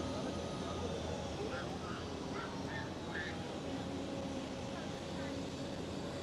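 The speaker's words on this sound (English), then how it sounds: "the Bluey of KLM Cityhopper, the E195E2, is lined up on runway 24" A KLM Cityhopper Embraer E195-E2 jet lined up on runway 24 at Schiphol, its engines giving a steady, distant broadband roar that fills the background, with a voice talking over it.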